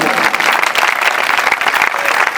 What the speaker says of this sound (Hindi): अपनी जोरदार तालियों में बता दो।